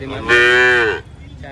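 A calf gives one loud, drawn-out moo lasting under a second, close by, followed by quiet.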